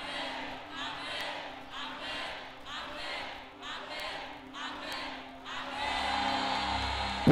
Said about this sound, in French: Puissante offrande d'acclamation à Jésus.